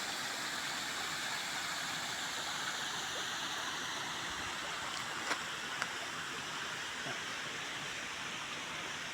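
A constant, dense roar of water rushing over a dam, unbroken and steady throughout, with no voices.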